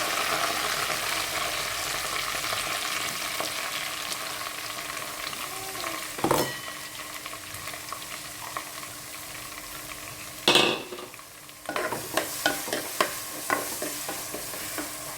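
Onion, garlic and ginger fry in hot oil with a continuous bright sizzle, broken by occasional stirring and a few sharp clinks of a utensil against the pan.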